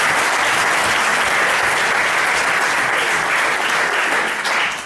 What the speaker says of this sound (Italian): E ci vuole un applauso per questo.